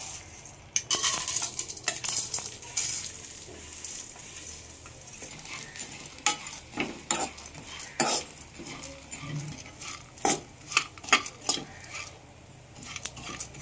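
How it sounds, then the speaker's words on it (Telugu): Sunflower seeds fry in ghee in a pan for dry fruit laddu. A spoon scrapes and clinks against the pan in irregular knocks over a faint, steady sizzle. "ఫస్ట్ అయితే ఇవ్వండి సన్ఫ్లవర్ సీడ్స్ ఫ్రై చేద్దాం."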